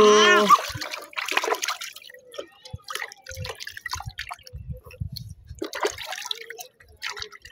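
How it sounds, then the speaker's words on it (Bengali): Water drips and splashes in scattered small bursts while a child is bathed, with a brief voice at the start. "আমু গোসল করে।"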